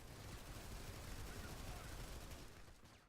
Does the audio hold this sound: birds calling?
no